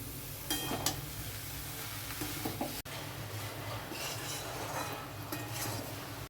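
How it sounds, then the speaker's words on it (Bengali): Chunks of bottle gourd fry in a pan, with a soft steady sizzle under intermittent stirring and light clinks from a utensil, fairly quiet and close, with no voices. "এবার লাউগুলোও ছেড়ে দিলাম। কিছুক্ষণ নাড়িয়ে লাউটা ঢেকে দেব"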